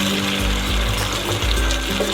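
Tomato puree goes into a pan of frying onions and green chilies, giving a loud, steady sizzle with a wet, bubbling hiss that swells and dips over a couple of seconds.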